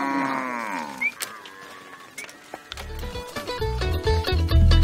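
Cattle of the Fulani herders in Cameroon's North-West Region moo loudly at close range, with a long low call followed by more lowing and shuffling animal noises, with no speech over it.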